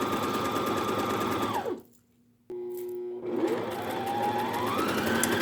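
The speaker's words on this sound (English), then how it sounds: "So I'm just going to go ahead and sew on down the pillowcase" A sewing machine stitches a pillowcase seam, whirring loudly and steadily up close, slowing and stopping briefly partway through before starting up again and running on.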